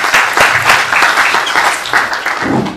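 Audience applause at a documentary screening and conference, dense, continuous clapping from a sizeable crowd that stays loud for the whole stretch.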